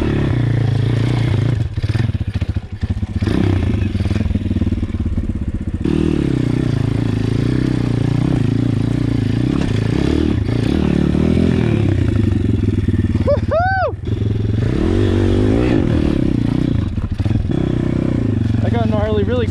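Custom Apollo RFZ pit bike with a swapped 150cc engine is ridden close by, engine buzzing and revving up and down with clattering and scraping, while a voice talks over it throughout.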